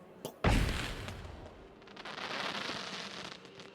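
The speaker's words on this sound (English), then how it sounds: "we do have fireworks. And we could throw fireworks in" Fireworks thrown in a video game go off with a sharp crack, then a sustained crackling hiss of sparks that swells and lingers, moderately loud and heard alone.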